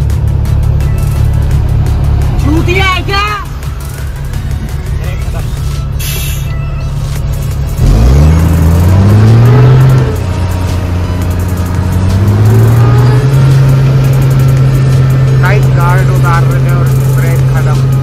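A car climbs and descends a steep mountain ghat road at Champaran Ghat, its engine loud and close, droning steadily, then revving and rising in pitch through repeated gear changes.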